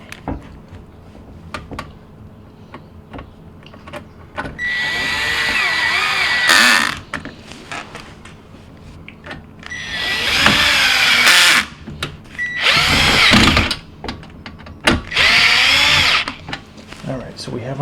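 Power screwdriver driving two screws to mount a replacement fill valve on a GE dishwasher, heard as several loud whirring bursts separated by brief pauses, close by.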